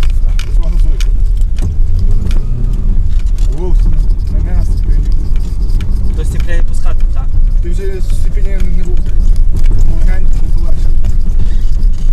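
Learner driver's car setting off in first gear, a steady low engine drone with some revving that continues without break, loud and close, while people talk over it inside the cabin.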